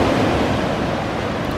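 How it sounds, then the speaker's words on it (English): Steady wash of ocean surf at Hamoa Beach in Maui, a continuous broadband roar with some wind buffeting on the microphone and no distinct wave breaks. "They say this is the most picturesque beach"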